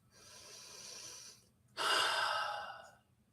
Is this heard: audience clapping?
no